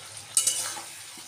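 Cooking in a pan, a brief scrape of a utensil stirring against the pan over a soft hiss of frying, close and short.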